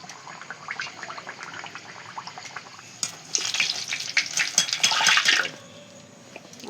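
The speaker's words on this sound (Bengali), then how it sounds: "আমি লুচিগুলো ভেজে নেব।" Luchi frying in hot oil for a puja offering: a light crackling sizzle that swells loudly midway as dough hits the oil, then eases back, close and without talking.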